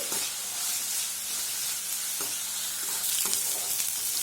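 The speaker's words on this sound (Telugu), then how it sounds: "ఆనియన్స్ అన్నీ కొద్దిగా మెత్తగా అయ్యేంత వరకు ఫ్రై చేసుకోండి" Onions and curry leaves frying in a pan, a continuous close hiss and sizzle with occasional soft scrapes and taps from the spatula as they are stirred.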